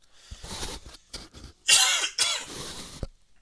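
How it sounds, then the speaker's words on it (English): A person coughs several times in short bursts, one harsh loud cough in the middle, close to the microphone with no speech. "Sorry about all the coughing."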